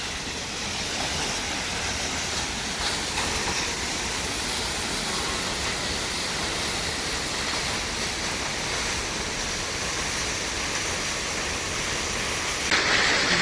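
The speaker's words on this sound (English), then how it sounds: "You can hear the water just pouring down." Roar of a 200-foot waterfall at Twin Falls, Idaho, pouring down in a loud, steady, broadband rush that stays constant throughout with no voices.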